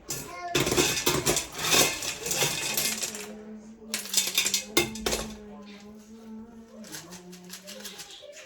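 Oxalis plants being potted into small net pots with LECA clay pebbles, giving loose rattling and clinking of pebbles and plastic pots, close and busy, then quieter handling with a low hum underneath.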